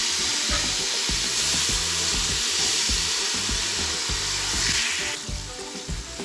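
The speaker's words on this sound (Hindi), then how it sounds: "अब हम डालेंगे इसके अंदर टमाटर का पेस्ट," Fried onions sizzling loudly in a pan as tomato paste is added for mutton yakhni pulao, a dense continuous hiss close up with occasional stirring scrapes.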